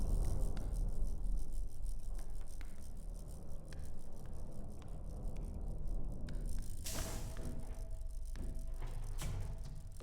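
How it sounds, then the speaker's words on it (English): A ship's winch in the video game FAR: Changing Tides keeps rolling and rumbling, a continuous low grinding rattle with intermittent clanks and a louder metallic scrape partway through. "The winch is still rolling around."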